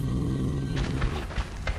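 A monkey-like creature in the video game Metro 2033 Redux lets out a rough, roaring growl over a steady low game drone, with a few short bursts rising near the end.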